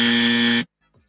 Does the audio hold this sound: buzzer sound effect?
yes